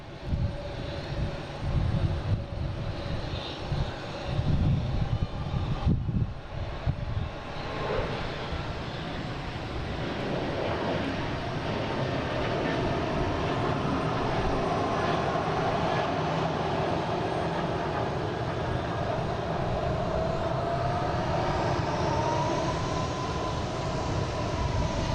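A Swiss airliner passes by at Boston Logan International Airport, its engine roar a broad, steady rumble that holds loud and continuous for the full stretch, with no voices present.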